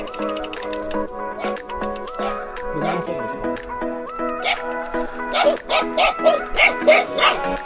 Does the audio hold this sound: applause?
no